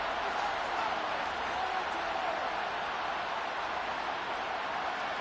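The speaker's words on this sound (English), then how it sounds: "Listen to this crowd now." A video game football stadium crowd roars steadily during a tense two-point conversion attempt, a dense, continuous wash of cheering and noise that never lets up.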